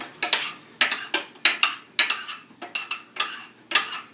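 A spoon scrapes and clinks against a pot while stirring melting marshmallows for Rice Krispies treats, about a dozen irregular knocks and scrapes, close and fairly crisp, with no voices.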